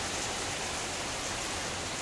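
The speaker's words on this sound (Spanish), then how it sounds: "Comenzó a llover y bastante." Heavy rain pouring down steadily outdoors in Cuba, a dense, even hiss with no breaks and no voices.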